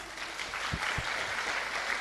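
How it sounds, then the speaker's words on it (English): A lecture-hall audience applauds a guest speaker at the close of an international guest lecture, a steady, even wash of clapping that fills the whole stretch at moderate volume. "Once more, give applause to the speaker."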